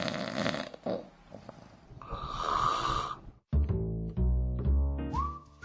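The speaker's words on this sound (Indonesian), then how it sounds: "Pernah mendengar orang mendengkur ketika tidur?" Someone sleeping snores in slow, rough, rasping breaths with a whistling edge, loud and close, the breaths broken by short pauses.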